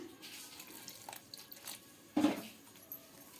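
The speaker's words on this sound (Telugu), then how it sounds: "ఇప్పుడు కొద్ది కొద్దిగా వాటర్ వేస్తూ కలుపుకుందాం" Quiet wet sloshing and dripping as water is stirred little by little into a thick sorghum flour batter, close by, with one brief louder splash near the end.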